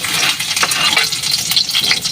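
Garlic hits hot cooking oil in a pan and sizzles loudly and continuously, a dense crackling hiss with occasional stirring, close and alone.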